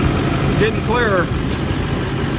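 GM heavy-duty truck engine idling with a steady low rumble close by, while a voice speaks briefly over it.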